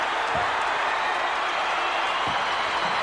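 Capacity wrestling arena crowd roaring after a tag team victory, a dense, steady wash of cheering and applause filling the whole space, loud and unbroken throughout with no talk over it.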